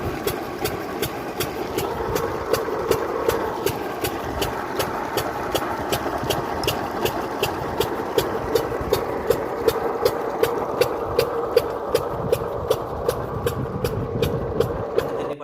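Tubewell pump engine running for field irrigation, a steady mid-pitched diesel thump with an even rapid ticking rhythm, continuous and moderately close, with no talking.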